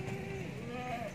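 A male goat at a goat farm in Dera Ghazi gives a single drawn-out bleat, close but fairly faint, with a wavering pitch that lasts about a second.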